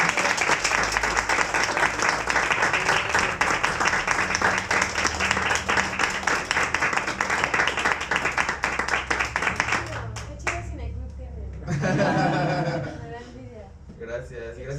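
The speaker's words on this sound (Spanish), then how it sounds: "pues denle un aplauso" An audience at a film discussion in a cinema breaks into sustained, dense clapping that lasts about ten seconds, then fades as a voice speaks.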